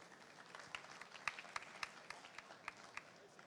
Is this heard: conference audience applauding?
yes